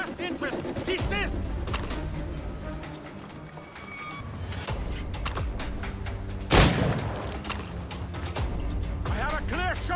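Gunfire in the Assassin's Creed Rogue video game: scattered sharp shots with one loud, close blast in the middle, mixed with game voices and background battle noise.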